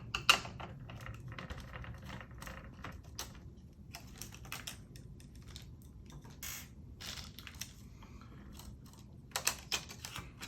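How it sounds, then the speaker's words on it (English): A screw is backed out of the plastic protector on a Pioneer DDJ-SZ DJ controller, producing quick, close clusters of small plastic and metal clicks and scratchy grinding that come in uneven bursts, louder near the end. "So now I'm going to take this other screw out of this plastic protector."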